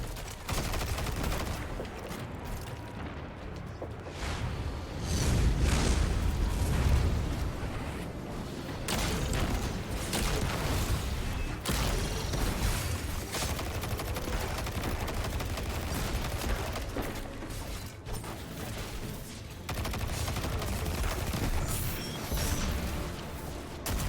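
Wave grenade launcher blasts in Destiny 2 mix with dense gunfire, giving a continuous loud barrage of crackling explosions and rapid shots that lasts throughout.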